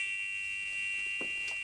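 A church entry buzzer sounds as one continuous, loud, unwavering electronic tone with a few faint background knocks underneath.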